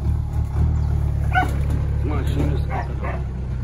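On a cattle farm, a dog gives a few short barks and yips over a constant low engine-like hum, with people talking nearby.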